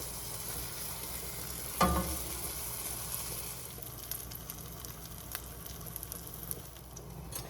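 Bacon grilled cheese sandwich frying in a pan, a steady low sizzle throughout with a brief louder clatter or thump early on as it is handled.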